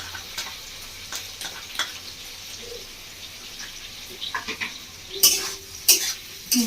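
Soft scraping and tapping of a utensil stirring chilli sauce and tomato sauce into a fish roe mixture, irregular clicks growing busier toward the end, fairly quiet and close.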